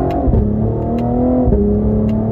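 A Cadillac CT5-V engine droning steadily at close range through gear changes, with brief pitch dips at each shift and a continuous loud throaty hum.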